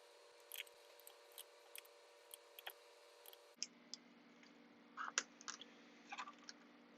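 Scissors trim cotton wick level with the build deck of a Requiem RDA, a run of small, close, crisp snips and clicks spread across a quiet background.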